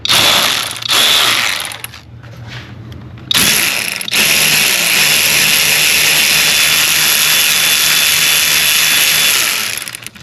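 A ratchet clicks rapidly while loosening a bolt on a Mercedes E350 3.5L engine on the driver's side, close and loud, with short pauses between bursts of steady pawl chatter.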